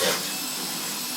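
Close, continuous high whine and rough hiss of a rotary tool running a small sanding disc over wood for bonsai staging, with a brief louder bite at the start, no talking.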